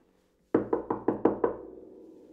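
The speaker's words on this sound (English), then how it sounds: "That's us knocking on the door." Six sharp knocks on a wooden door in quick, slightly uneven succession, close and loud, with a short ringing decay after the last one and no voices.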